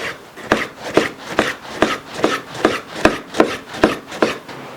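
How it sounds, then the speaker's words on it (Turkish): A knife slices steadily through halved peeled kiwis on a board, about ten even, rhythmic cuts with a wet thump on each stroke. "Bunları da ikiye bölüp ince ince doğrayacağız"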